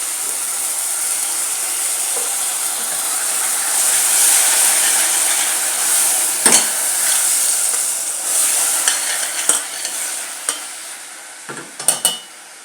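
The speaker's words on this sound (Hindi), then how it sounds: "मैं जो है मिक्स टमाटर जो है वो डालती हूँ इसके अंदर।" Chopped tomatoes go into a frying fish curry masala, bringing a steady loud hiss of frying and then sharp spoon scrapes and clanks against the pan as it is stirred.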